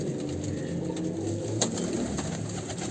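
Pigeons coo softly and repeatedly amid a steady, noisy background, with a brief sharper sound partway through.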